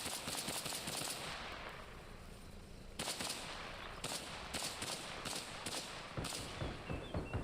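Rapid bursts of gunfire in the Arma Reforger military game during an ambush, crackling in irregular volleys with sharp single shots and short automatic strings over a steady noisy backdrop.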